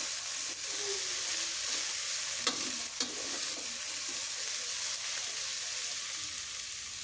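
Sprouted horse gram with salt frying in a pan gives a soft, steady sizzle, with a couple of sharp clinks from stirring.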